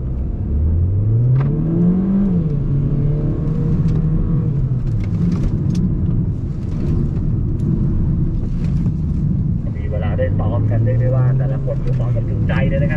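A Mercedes-Benz AMG car drives on a racetrack at Chang circuit in Buriram, its engine rising and falling steadily through gear changes, close and continuous, with someone talking over it.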